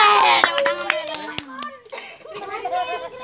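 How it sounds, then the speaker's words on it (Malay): Children and adults clap for the winner of an Indonesian independence-day contest for the longest shout of "merdeka", a quick scattered patter of hands under lively children's chatter and voices, fairly close and steady throughout. "Tepuk tangan nih."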